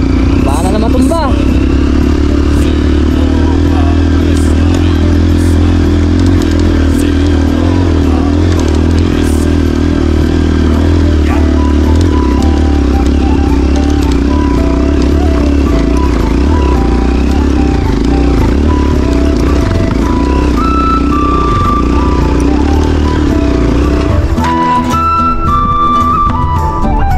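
Motorcycle riding a steep, rocky mountain road near rice terraces, a loud continuous engine drone with clattering and scraping over the rough surface, close up and unbroken.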